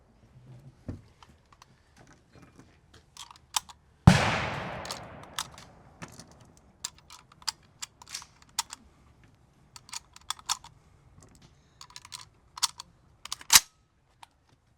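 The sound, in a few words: loading rounds by hand into an SKS rifle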